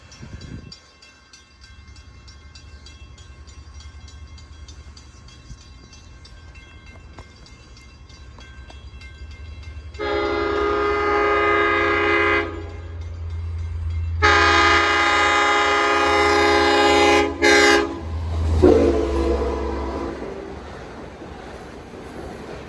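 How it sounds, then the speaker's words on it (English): Long Island Rail Road train 26, running from Jamaica to Montauk with class unit 400, sounds two long, loud horn blasts at night, over the rumble of the train approaching and passing. "train 26 from Jamaica to Montauk with the class unit 400"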